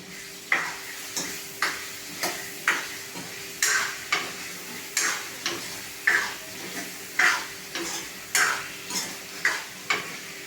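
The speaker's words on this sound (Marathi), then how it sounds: "आता हे सर्व टाकलेले आता आपण त्याला परतून घेऊया" Stuffed brinjal and potato are stir-fried in a kadhai, with a steady rhythm of spatula strokes scraping the pan roughly every half second over a soft sizzle.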